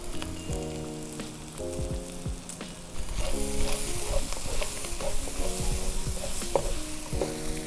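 Meat frying for pancit canton, sizzling steadily in a pan while being stirred, with scraping utensil strokes over a constant hiss. Low harmonic tones hum underneath in the first half, and the sizzle grows louder and denser after a few seconds.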